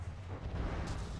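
Video game battle gunfire booms as a low, rumbling wash of distant explosive shots, muffled and continuous over a brief moment.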